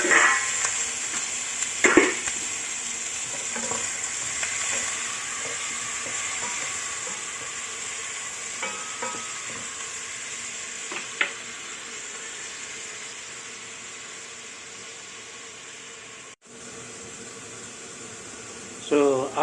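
Carrots, celery and small red chili stir-fry in butter in a pan, giving a soft continuous sizzle with occasional scrapes and clinks of the utensil, some faint background noise, and a brief loud knock near the end.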